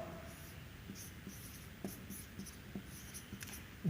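Pen writing on paper during a physics lesson on electric fields, a faint steady scratching with soft intermittent strokes and taps, close and quiet, no talking.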